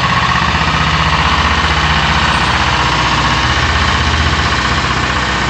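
A Savage 220 log loader's engine running steadily, a loud, even diesel drone with a low rhythmic throb, close and unbroken.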